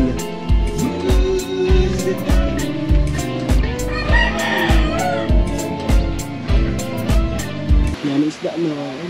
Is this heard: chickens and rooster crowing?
yes